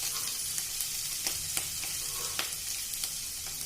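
Black pepper, asafoetida and ginger fry in a pan for broken-rice upma, a steady close sizzle broken by sharp crackling pops and stirring clicks, with no talking.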